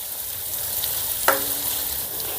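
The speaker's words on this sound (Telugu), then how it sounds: "సన్నగా తరిగిన ఉల్లిపాయలు ఇప్పుడు ఈ ఉల్లిపాయల్ని లేదా బంగారు వర్ణం వచ్చేంత వరకు వేపుకుందాం" Thinly sliced onions fry in hot oil until golden, a continuous close sizzle broken once by a brief utensil clink partway through.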